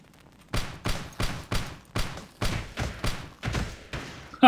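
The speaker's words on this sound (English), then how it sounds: "I think that might be a grenade launcher" Grenade launcher fired in the video game Teleglitch, about eight evenly spaced heavy thumping shots at a steady rhythm, loud and close with no talking over them.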